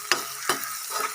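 Onions frying in a pan as they are stirred, a continuous sizzle broken by two sharp scraping clacks of a utensil early on, with no one talking.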